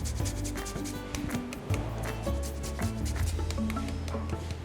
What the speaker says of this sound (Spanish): Y la ralladura de lima